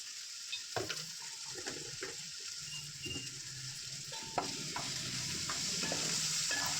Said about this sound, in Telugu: ఈ మూడు దీంతో పాటు ధనియాల పొడి వేసుకొని బాగా కలుపుకుందామండి